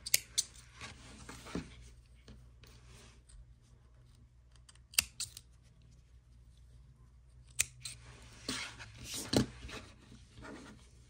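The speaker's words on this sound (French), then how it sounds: "une maille en l'air et je coupe le fil." Scissors snipping crochet yarn: a few sharp close clicks and snips, separated by quiet gaps, with a cluster of handling sounds toward the end, no talking.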